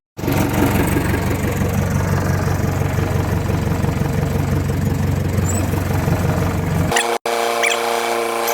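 A 4x4 Jeep engine labors while driving up an earth ramp off-road, a loud, steady rumbling drone throughout that cuts off abruptly near the end, leaving a brief quieter tail.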